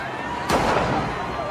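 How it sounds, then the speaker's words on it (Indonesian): Gunfire in an action film: a single sharp, loud shot bursts out over a steady bed of background sound, then rings and decays over about a second. "tiba-tiba anak buahnya melepaskan tembakan."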